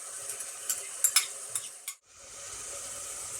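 Crushed ginger, garlic and green chili frying with tomatoes for a prawn biryani masala: a steady, close hiss of sizzling oil, broken by a few sharp spoon scrapes while stirring, then settling back into an even fry.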